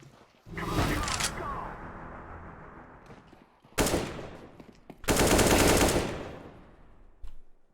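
Automatic gunfire from CS:GO in bursts: a long rattling volley, a sharp burst near the middle, then a dense loud spray followed by a final short shot, with gaming voices talking faintly underneath.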